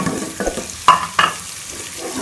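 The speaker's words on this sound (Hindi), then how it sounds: "इसके अंदर ये चॉप की हुई प्याज डाल दें और इसको ब्राउन कर लें" Chopped onions fry in a pan, a low sizzle with a few quick stirring scrapes and knocks of a spoon, close and brief, no talking.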